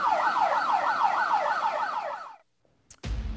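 An ambulance siren wails in a loud, steady rising-and-falling cycle for about two seconds, then cuts off abruptly into near silence before a low rumble returns.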